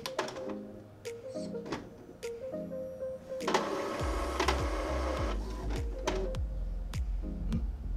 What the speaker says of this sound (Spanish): estoy mandando a imprimir y me marca que no hay hoja o que está mal colocada. Este es el sonido que emite.